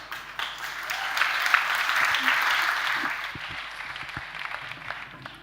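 Audience applause at an opening ceremony, steady clapping from a seated crowd that runs for several seconds at moderate volume with a few sharper claps and faint voices underneath.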